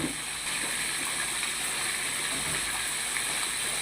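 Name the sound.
pouring second coconut milk into a pot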